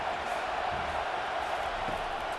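A dense stadium crowd roars in College Football 25 during a Texas vs Michigan game, a steady, far-off wash of cheering and noise with no distinct individual voices.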